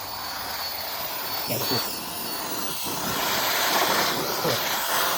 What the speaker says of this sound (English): That thing's really strong for air blower.